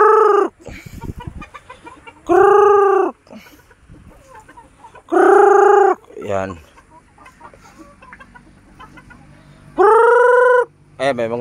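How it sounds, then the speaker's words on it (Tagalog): Farm chickens cluck and call in loud, repeated bursts while being fed, with someone talking between the calls and more quiet bird noise underneath. "Magpakain tayo ng manok guys"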